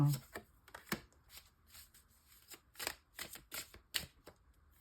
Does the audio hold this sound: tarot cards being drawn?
yes